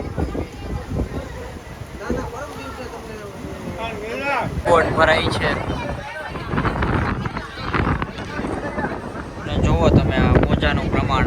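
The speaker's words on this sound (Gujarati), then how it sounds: "મોજાનું પ્રમાણ, મોજા બહુ જ વધી રહ્યા છે. જુઓ તો મોજા જુઓ." Sea waves surge and crash along the shore at Rameshwaram, a loud, continuous wash that swells toward the end, buffeted by wind noise on the microphone, with people talking throughout.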